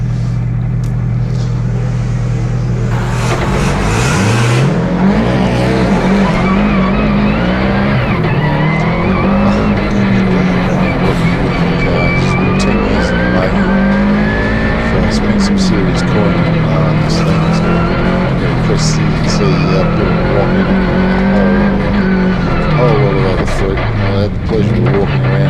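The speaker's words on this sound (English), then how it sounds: "Another WRX going up the hill with Doug Johnson." A Subaru WRX climbs a hillclimb course at the Legend of the Lakes event, its engine note rising and falling through the gears with some tire squeal. A race commentator talks over the engine throughout.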